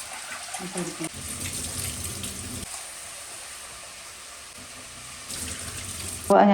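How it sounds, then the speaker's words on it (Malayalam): Lentils are rinsed under a running kitchen tap, a steady close stream of water splashing with brief sloshing shifts and a louder gush at the end. "പരിപ്പ് കറിക്ക് വേണ്ടിയുള്ള പരിപ്പൊന്ന് കഴുകി ഇട്ട് കൊടുത്തിട്ടുണ്ട്."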